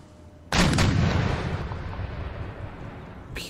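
A cannon fires round shot in Empire Total War, one heavy close boom that rolls and fades slowly over several seconds, with a sharp second report starting at the very end.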